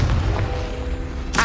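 A Confringo blasting spell explosion in Hogwarts Legacy: a deep rumbling boom fills the moment, followed by a sharp bright burst near the end, with no voices.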